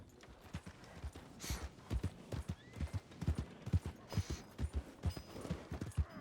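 Horse hooves clip-clopping at a steady walking rhythm in the Red Dead Redemption 2 video game, a string of distinct, fairly close hoofbeats on hard ground with no talk.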